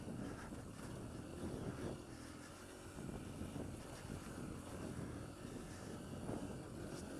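Honda CRF150F dirt bike riding over whoops, a steady buzzing engine drone that rises and dips with throttle as it bounces along, fairly close, no talk.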